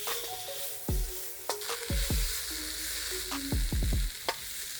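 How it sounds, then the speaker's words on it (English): Food frying over high heat in a pan, stirred with several sharp scrapes and knocks of a utensil against the pan over a steady sizzle; no voices. "we're gonna stir all that up"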